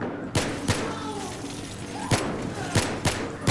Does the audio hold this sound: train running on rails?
no